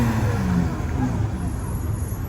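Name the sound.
BMW turbo engine revving at a car meet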